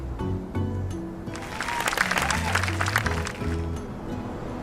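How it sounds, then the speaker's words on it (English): Soft applause from a small crowd in the farming life game My Time at Sandrock swells for a couple of seconds over a steady musical backdrop, then fades back under the music. "let's give a special round of applause for our core construction team"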